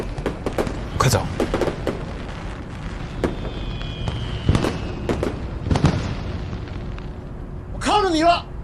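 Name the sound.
fireworks being set off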